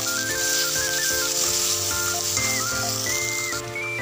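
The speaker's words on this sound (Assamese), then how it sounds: "মোৰ মছলাখিনি ভাজা হৈ গৈছে আৰু এনেকৈ পিয়াজ আৰু আদা নহৰু পেষ্টখিনি ভাজি দিলে" Spices, onion and ginger-garlic paste fry in a pan for a steamed katla fish dish, a steady close sizzle running throughout beneath loud melodic background music.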